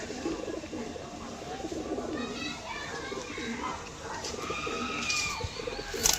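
Pigeons in a seller's loft coo in low, rolling bursts that run on throughout, mixed with faint chirps, a flutter and some background voices.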